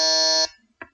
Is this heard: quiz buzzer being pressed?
yes